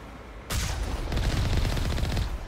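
Rapid gunfire from a vehicle being driven in Mass Effect: a sharp burst that starts abruptly and continues as a fast, dense rattle of shots over a low rumble, loud and close with no talk.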